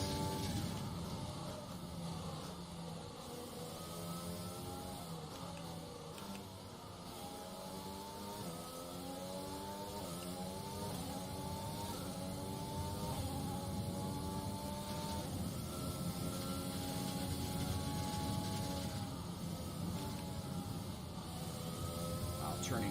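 A Formula 1 car in the F1 2020 racing game on the British circuit revs and shifts through gears. The engine note rises and falls steadily and sits under a speaking voice.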